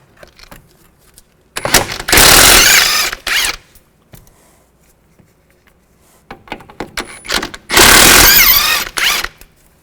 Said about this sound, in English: Take the two nuts off right here. Use a 18mm socket.